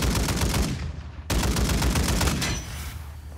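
Rapid automatic gunfire from a teammate in a zombie map video game, dense continuous bursts with a brief break near the middle, loud and close before tapering off at the end, no voices.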